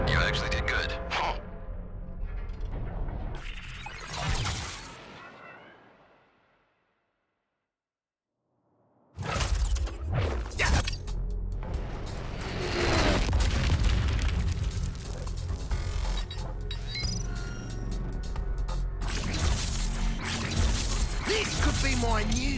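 A cannon blown apart in the video game Suicide Squad: Kill the Justice League, with loud booming blasts and mechanical clatter, a brief drop to silence, then dense roaring explosions and debris under game voices.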